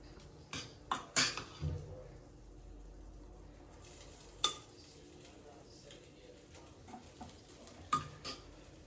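Cooked rice stirred into tamarind mixture in a pan for puliyogare, with scattered metallic scrapes and clinks of a spoon against the pan, fairly faint and close, spaced irregularly over quiet background.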